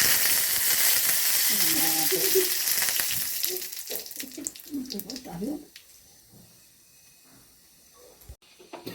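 Mustard seeds and curry leaves hit hot oil in a kitchen pan, giving a loud close crackling sizzle that gradually dies down to a faint hiss while someone talks over it.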